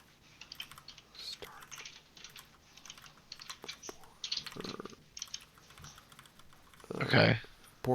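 Typing on a computer keyboard while coding, a run of soft scattered key clicks at close range, irregular in rhythm, with a louder burst of clatter near the end and quiet muttered speech in between.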